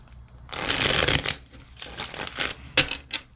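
A tarot card deck is shuffled by hand in a quiet room, several bursts of rapid riffling and flicking, one long stretch followed by shorter crisp flutters.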